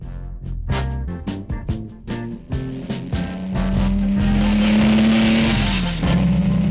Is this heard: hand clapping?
no